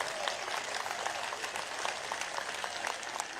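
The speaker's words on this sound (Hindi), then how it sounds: "तो एक बार तालियों के गड़गड़ाहट से स्वागत कर दीजिए।" A crowd claps steadily and continuously at a convocation ceremony at Babu Banarasi Das University in India, a faint, even patter of applause that holds throughout.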